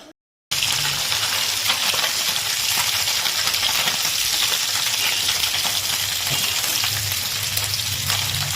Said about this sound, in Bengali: তো বন্ধুরা এখানে মাছগুলোকে একটুখানি জাস্ট উল্টে পাল্টে দিচ্ছি